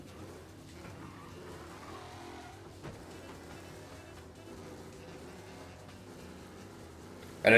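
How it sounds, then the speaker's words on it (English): Car in Mafia Definitive Edition video game driving with steady engine drone and shifting revs, faint and continuous, ending with a sudden loud burst. "It's the car that's doing that when it keeps like stopping and starting."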